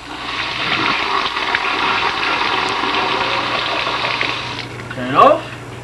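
Water rushes steadily from a wall-hung sink faucet after the supply valves under the sink are turned back on, a loud continuous hiss that cuts off abruptly before a brief voice.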